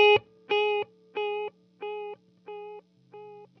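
Single sustained guitar notes repeat six times at a steady quarter-note spacing through a TC Electronic Triple Delay pedal on its space setting, each echo fading slightly, with a low hum beneath and no talking.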